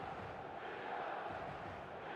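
Stadium crowd in the eFootball mobile game, a steady broad roar of many voices holding at an even level throughout, with no single voice standing out.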